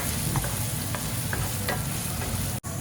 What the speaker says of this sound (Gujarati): ત્યારે બધું હલાવી લઈએ